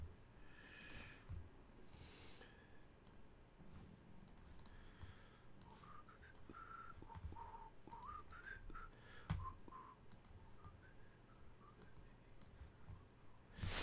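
A person whistles a short wandering tune, faint and close, mixed with light clicking and keyboard typing in a quiet room.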